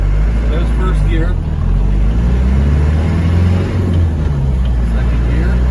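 A 1993 Land Rover Defender 90 with a 200tdi diesel pulls away in first gear, a close, rumbling engine drone that builds slightly under someone talking from the driver's seat.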